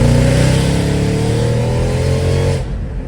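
A Mercedes E55 AMG accelerates hard in second gear, engine roaring loud and close with rising harmonics, then the note drops off sharply near the end as the throttle lifts.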